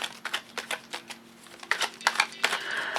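Tarot cards being shuffled by hand up close in quick, crisp, irregular bursts of riffling and flicking, with no voice.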